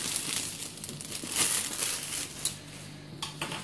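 Plastic wrapping being peeled and crinkled off the box of a Corsair Hydro Series H55 liquid CPU cooler, with close, continuous rustling and crackling and a few sharper crinkles near the end, no talking.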